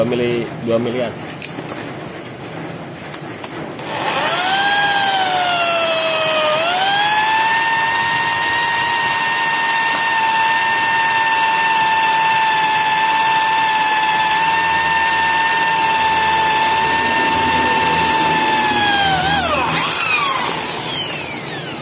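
A high-pitched whining drill with a 2 mm bit bores through metal, running steadily for about fifteen seconds, its pitch dipping briefly as it bites, then winding down; faint clatter comes before it starts.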